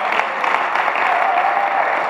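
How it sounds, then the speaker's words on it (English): A church audience applauds a campus ministry leader, a thick sustained burst of many hands clapping, loud and even throughout. "give them a hand clap"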